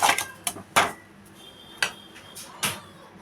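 A spoon stirring grated carrot and sugar in a pan clanks against the metal in several sharp, irregular knocks separated by quiet gaps, close and fairly loud, with nobody talking.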